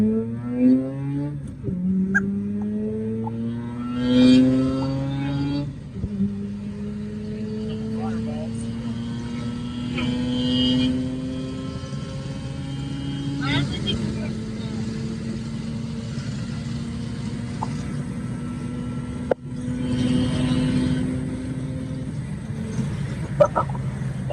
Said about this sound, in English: we're going to go ahead and redline getting onto the highway again